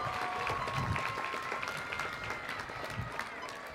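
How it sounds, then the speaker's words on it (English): Audience applause fills a graduation commencement ceremony, a steady wash of many hands clapping that holds from start to finish with crowd murmur beneath, and a few faint voices mixed in. "Let's give your parents another big round of applause for their support tonight."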